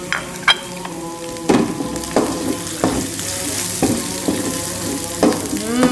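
Galangal and lemongrass sizzle and crackle in hot oil for a tempeh, tofu and egg stew, with close stirring scrapes and clinks of a utensil against the pan at irregular intervals.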